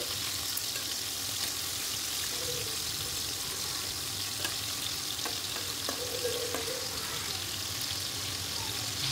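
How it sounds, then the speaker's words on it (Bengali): Prawns frying in a pan for chingri malaikari, being turned to fry the other side: a continuous soft sizzle with occasional spatula taps, faint and steady throughout. "উল্টে পাল্টে বাকি অন্য দিকটাও ভেজে নেব ভালো করে"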